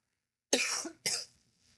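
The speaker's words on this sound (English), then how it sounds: "this stupid cough won't go away" Two quick, harsh coughs from one person, close and fairly loud, separated by a brief gap, with no speech around them.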